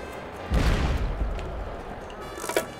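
Distant explosions in the video game Tropico 6: a deep boom followed by rumbling, scattered bursts and a sharper crack near the end, heard without any talk.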